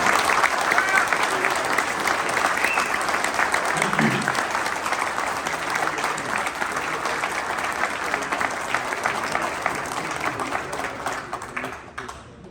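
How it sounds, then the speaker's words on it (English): An audience claps steadily in dense, continuous applause for Vietnam veterans at a members' honoring event, fading out at the end, with a voice briefly heard beneath. "Let's give them a round of applause before we resume activities."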